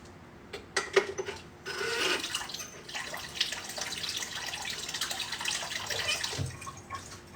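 Water runs steadily from a kitchen tap into a container, a broad rushing spray that starts after a few soft clatters and continues unbroken, fairly close.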